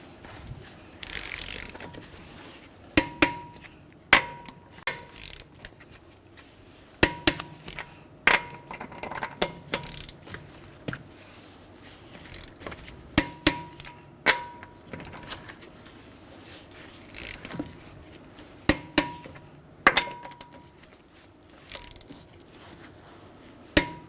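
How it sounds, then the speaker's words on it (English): Torque wrench clicking repeatedly as lug nuts on a 2011-2017 Honda Odyssey front wheel are tightened to 94 foot-pounds in a crisscross pattern; sharp close clicks come in irregular bursts with short pauses, no voices. "we're going to torque our lug nuts to 94 foot-pounds in a crisscross pattern"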